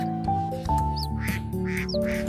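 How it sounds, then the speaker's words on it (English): Ducks quack in a few short nasal calls over a steady bed of light background music, fairly close and clear, with the birds at a pond. "Here come another duck."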